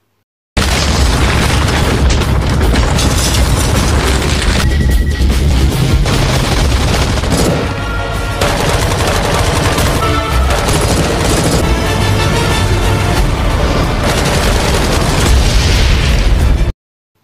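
Loud film explosions and heavy booms as a killer drone is destroyed roll on for many seconds, mixed with bursts of rapid, gunfire-like cracks.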